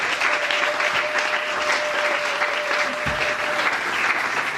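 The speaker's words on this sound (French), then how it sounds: "Est-ce qu'on peut acclamer pour la gloire de l'Éternel?" A church congregation applauds and cheers in praise during a prophetic service, steady dense clapping filling the room with a few louder claps, continuous and moderately loud.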